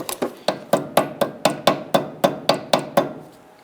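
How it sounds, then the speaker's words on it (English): A small hammer taps a metal clip into place on a 2006-10 Honda Civic rear brake caliper about a dozen times in a steady, even rhythm, each strike sharp and close with a quick ringing decay. "use a small hammer to go ahead and tap that into place"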